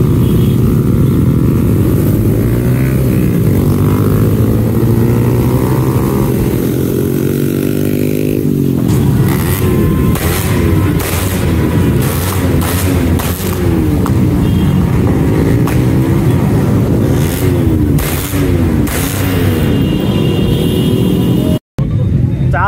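Motorcycle engines rumble steadily throughout at a bike rally, with shifting revs and passing vehicles, while people talk loudly over the continuous engine noise.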